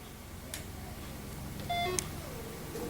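A short electronic beep from a projector powering on, a bright tonal chirp of a few stepped pitches, sounds once over a steady room hum.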